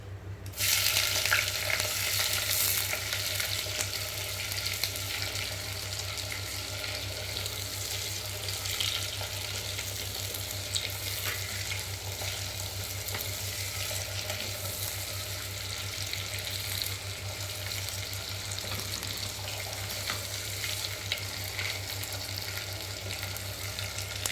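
Chopped onions frying in a clay pot for a chicken dish, a steady broad sizzle with faint stirring over a low electrical hum, continuous and close, no talking.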